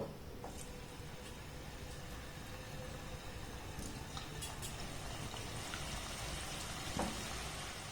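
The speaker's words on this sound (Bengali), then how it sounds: "এবার এগুলোকে আমি তেলের মধ্যে ছেড়ে দেব" Wheat flour biscuits frying in medium-hot oil in a kadai give a steady, soft, crackling sizzle that holds evenly throughout, fairly faint, with no talk.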